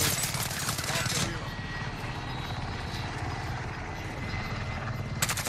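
A video game helicopter whirs and thumps steadily with a rotor pulse, while people talk over it and a few sharp bursts sound near the start and end.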